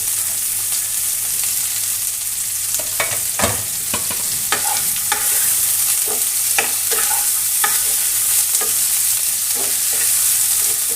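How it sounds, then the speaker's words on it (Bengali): Small potato pieces fry over high flame without salt or turmeric, a steady loud sizzle broken by repeated scraping and clacking strokes of a spatula stirring close up. "হালকা করে 2 মিনিট ভেজে নিয়েছি হাই ফ্লেমে।"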